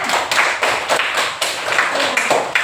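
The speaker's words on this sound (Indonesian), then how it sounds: "tepuk tangan untuk temannya." Classroom applause for a classmate, a short burst of uneven hand claps from a group of students, moderately close and loud, with no talking over it.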